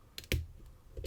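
A Yale pin tumbler lock is picked with a short hook. A few small, sharp clicks sound close by, one louder than the rest, spread over about a second with quiet in between.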